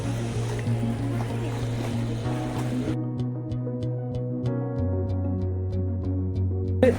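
Boat engines drone steadily on open water as two boats approach, with a low rumbling hum and no talking.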